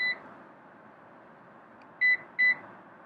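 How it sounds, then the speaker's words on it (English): Short electronic seat position limit warning beeps sound inside a quiet 2021–2022 Lexus RX: one at the start, then two more in quick succession, clear against a soft hum. "If you come too far, you'll hear those beeps."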